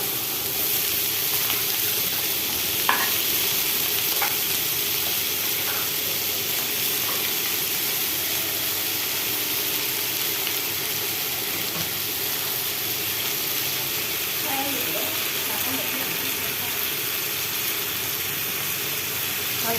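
Potatoes fry and get stirred in a pan, a steady broadband sizzle and hiss running throughout with a few faint clinks, no talking.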